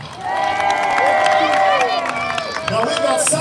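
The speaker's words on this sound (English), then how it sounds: "big round of applause for our amazing road crew" Crowd applause and cheering for a live show's road crew, the Peanuts Gang, at a Woodstock music festival, a dense steady roar of clapping mixed with melodic sounds and voices throughout.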